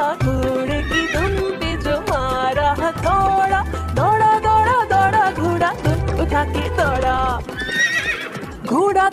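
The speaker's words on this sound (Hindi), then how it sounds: "दौड़ा दौड़ा दौड़ा घोड़ा उठा के दौड़ा।" A horse whinnies and hooves clip-clop in a Hindi children's rhyme, the neighs and galloping beats loud and mixed over a bouncy musical backing.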